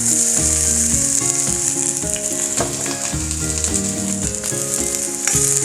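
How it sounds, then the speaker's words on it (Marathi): Onion frying in hot oil in a pan, a loud, steady hiss that persists throughout, with background music playing over it. "तेल तापलं की आपण त्याच्यामध्ये कांदा ॲड करून घेऊया."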